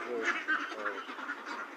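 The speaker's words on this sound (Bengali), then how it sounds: "এগ্রো সকালবেলা হাঁসের খাওয়ান দেওয়া হচ্ছে।" Ducks on a farm quack steadily in a busy flock during their morning feeding, the calls close and continuous, with a person talking over them.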